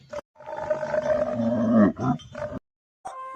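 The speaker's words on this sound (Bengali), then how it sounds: "দন্তস্বয় সিংহ রাগে কেশর নাড়ে।" A lion roar used as a sound effect: a loud, growling roar lasting about two seconds, followed by a shorter grunt, then a gap and a brief tonal sound at the end. No one speaks.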